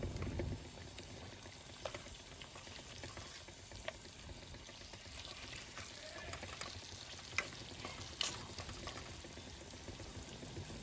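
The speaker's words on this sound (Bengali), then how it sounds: "আগে মাছটা দিয়ে কষাইলাই" Fish being sautéed in a pan for a Sylheti chops curry with nali leaves, a faint, steady sizzle broken by soft stirring clicks and scrapes, with no talk.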